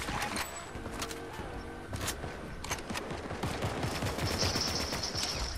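A mythic Nisha Striker assault rifle in Fortnite fires a steady run of rapid shots. The crack of each round sits over a constant, busy game background, with no voices in the clip.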